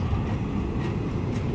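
A Union Pacific intermodal stack train passes nearby in Roseville, California, producing a steady, loud rumble of rolling wagons with no break and no talk.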